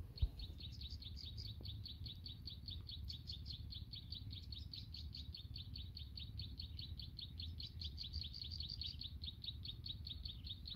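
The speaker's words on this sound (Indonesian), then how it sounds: "masih kita sering dengar kicauan burung dan juga hembusan angin yang cukup lumayan" Birds chirp in quick repeated bursts over a steady rushing wind at the Kumitir Majapahit palace site, the calls continuous and moderately close, with no voices.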